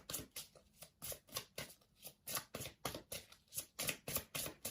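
Tarot cards shuffled by hand on a small table, a steady run of crisp riffling bursts repeating roughly every half second, close and fairly loud with no talking.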